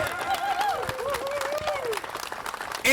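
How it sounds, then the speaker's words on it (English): An audience at a groundbreaking ceremony for a teacher housing building bursts into applause, a dense wash of clapping with a high whoop or whistle and voices mixed in, fairly close and loud. "if you would give Gail and Randy the appropriate round of applause"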